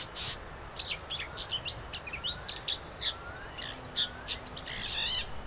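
Several birds sing in the early morning, with clear chirps, whistles and sweeping trills that repeat irregularly and overlap against a soft, steady outdoor hiss.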